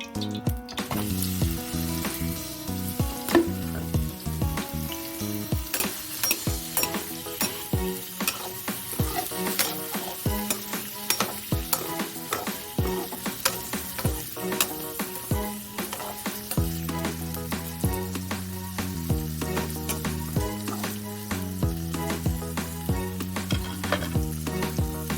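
Steady crackling sizzle of paneer frying in hot oil, with metallic stirring clinks throughout and music playing alongside.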